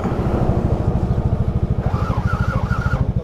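A broken-down motorcycle's engine chugs close by after a start attempt, a loud, steady pulsing idle with even, rapid firing beats throughout and a faint whine in the second half.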